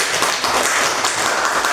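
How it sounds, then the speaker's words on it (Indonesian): Steady applause from a class of elementary school students, dense clapping filling the whole moment at close range, with no voices over it. "Kasih dulu tepuk tangan."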